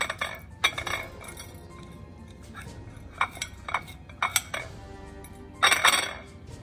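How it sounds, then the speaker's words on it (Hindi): A metal spoon scrapes the seeds out of halved red chillies for Marwari red chilli pickle, giving a handful of short, close scrapes and clinks against the bowl with pauses between them and no talking. "और 1 चम्मच की मदद से इसके अंदर से सारे बीज कुरच के निकाल देंगे।"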